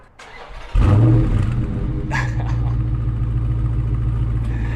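A Dodge Charger Scat Pack Widebody's naturally aspirated 6.4-liter V8 fires up with a sudden loud bark, then settles into a deep, steady, rumbling idle heard up close.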